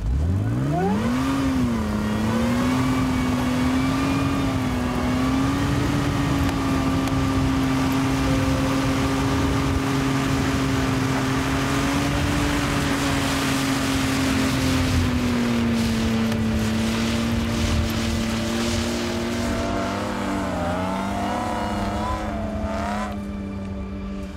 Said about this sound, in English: I'll move the truck forward